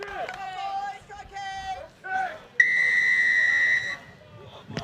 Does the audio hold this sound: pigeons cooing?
no